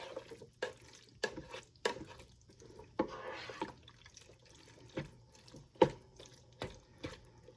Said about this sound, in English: Mix it in again.